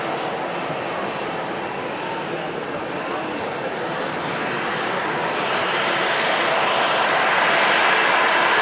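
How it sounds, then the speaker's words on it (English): A Ryanair Boeing 737-800 with yellow wingtip stripes arrives at Manchester Airport, its broad, steady engine roar holding close and loud throughout and swelling slightly toward the end. "Another Ryanair 73 arriving. This is a just an 800 series 737."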